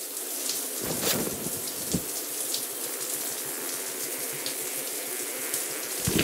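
Steady rushing, splashing water from a minigame in the South Park: The Stick of Truth video game, a continuous faucet-like stream with a few sharper splashes, fairly loud and without speech.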